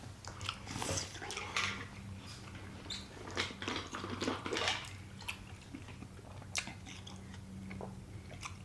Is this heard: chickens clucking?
no